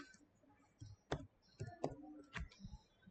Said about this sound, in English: So why am I typing?